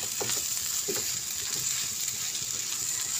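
Bread batter cooks in a hot pan with a steady, bright sizzle. Soft scraping and stirring knocks come through at close range, and no one speaks.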